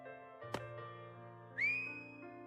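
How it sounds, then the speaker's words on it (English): A police whistle blown in the video game Steam Prison, one shrill rising blast heard over a soft sustained musical drone after a brief percussive hit. "Finn walked into the light and blew his police whistle"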